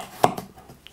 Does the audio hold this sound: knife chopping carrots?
yes